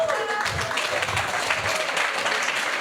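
At a Green World award ceremony, an audience applauds an honoree with continuous, moderately loud clapping, while faint voices and a thin tonal sound sit beneath it.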